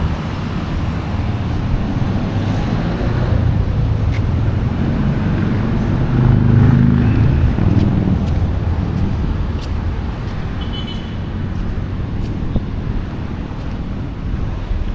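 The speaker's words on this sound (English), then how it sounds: "I'd come get a tea every morning here and stare at the waves." Ocean surf rolls onto a beach in Da Nang, Vietnam, a steady broadband wash of waves with gusts of wind buffeting the microphone, swelling slightly mid-way and continuing throughout with no voices.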